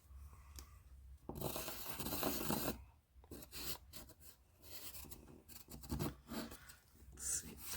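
Pencil shavings rasp in a handheld sharpener during a paper-decorating session, an uneven run of quiet scraping bursts and twists with brief pauses between turns.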